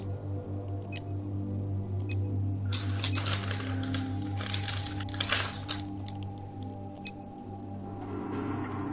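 Rapid clicking keystrokes on a computer keyboard come in a dense burst of a few seconds, with scattered single clicks before and after over a low steady hum.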